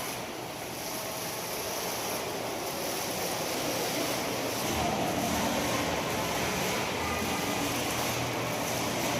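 Water fountain jets splashing into a pond, a steady broadband rush of falling water heard continuously and fairly loud, with a slight swell midway and no voices.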